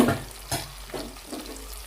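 Masala-coated brinjal frying in a pan, a steady close sizzle broken by a few soft stirring scrapes.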